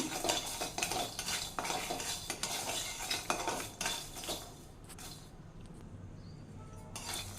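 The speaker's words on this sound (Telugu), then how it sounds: "ఇదే మూకిట్లో వెల్లుల్లి కూడా వేస్తున్నానండి. కొద్దిగా ఫ్రై చేస్తాను. అది కూడా ఆయిల్ వేయలేదు, డ్రై రోస్టే చేస్తున్నాను." Garlic cloves dry roasting in a pan without oil, stirred steadily with a utensil that scrapes and clinks against the metal, a dense continuous rattle up close that eases off near the end.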